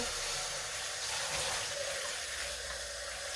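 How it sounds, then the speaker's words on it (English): Cold water running steadily from a kitchen tap into a pot for cooking corned beef, a constant close splashing hiss without pauses. "Okay, now we got cold water coming out."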